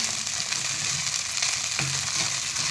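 Sabudana (tapioca pearls) being sautéed in a pan, a continuous moderate frying hiss with scattered scraping and stirring clicks, one brief clunk near the end, and no voices.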